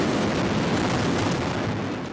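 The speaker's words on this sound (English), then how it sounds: "Huge explosions rupturing the morning quiet across southern Lebanon." Explosions from Israeli airstrikes across southern Lebanon in the early morning, heard as a sustained, loud, rumbling roar of dense low-frequency noise that fills the whole stretch and fades slightly at the end.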